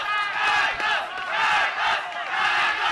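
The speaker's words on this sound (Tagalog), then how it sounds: "And the crowd chanting" A boxing crowd at the Midas Hotel and Casino chanting in loud, rhythmic surges, swelling and dipping in repeated waves of massed voices.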